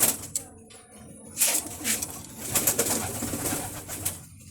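Racing pigeons coo in soft, throaty bursts amid a busy loft, with occasional wing flutters and rustling close by.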